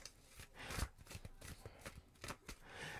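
A deck of tarot cards being shuffled, with a run of quick papery riffles and flicks in a steady, irregular rhythm, close and moderately loud with no voice over it.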